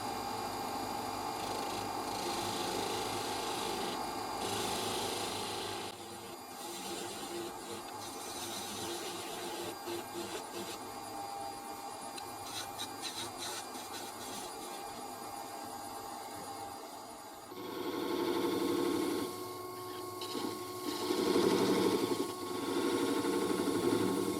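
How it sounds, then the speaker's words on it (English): A wood lathe spins steadily while a half-inch skew chisel cuts wood for a pipe-puffing farmer figure, a continuous close mechanical hum with scraping texture that grows rougher and louder toward the end. "Switching to my 1/2 inch skew."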